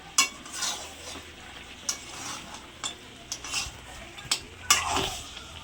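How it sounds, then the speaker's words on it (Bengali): Mutton being sautéed in a pan with Kashmiri chili powder, a spatula stirring and scraping in repeated sharp strokes over a low steady sizzle, close and moderately loud, with no talking. "মাংসটা প্রায় কষানো হয়ে গেছে, আর একটু কষানো হয়ে গেলেই প্রেসার কুকারে দেবো।"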